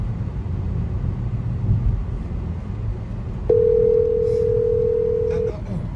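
A steady phone dial tone sounds for about two seconds while someone tries to place a call inside a moving car, over a constant low engine and road rumble.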